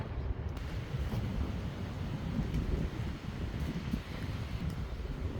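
Steady wind roars and buffets the microphone on a hiking trail as a storm moves in, a dense low rumble with some rustling, continuous throughout with no voices.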